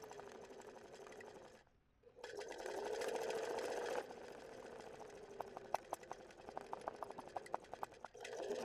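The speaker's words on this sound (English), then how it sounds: "Do a little straight stitch." A sewing machine doing free motion stitching for embroidered letters runs in a steady close whirr with a faint rhythmic needle ticking, pausing briefly and then restarting.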